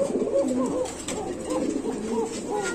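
Male Black Homa pigeon cooing in a loft, several short rolling coos repeated close by in quick succession.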